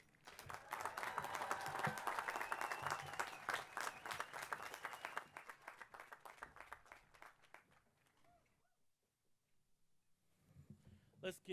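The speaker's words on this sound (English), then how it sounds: "Let's give Chancellor Jackson another round of applause for those words of wisdom." Crowd applause at a 2023 College of Alameda commencement ceremony, loud and sustained for about eight seconds before fading, with a fresh burst of clapping rising at the very end.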